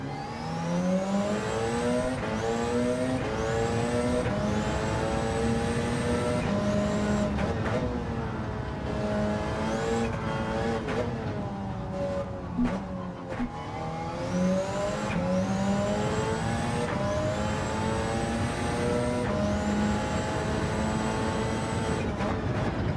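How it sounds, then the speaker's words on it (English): A Porsche race car in a racing video game rattles quickly up through its gears, each loud engine climb cut short by a shift, repeating in rapid sweeps between lifts and pulls, with brief tire squeal. "Rattles through the gears really fast, the Porsche."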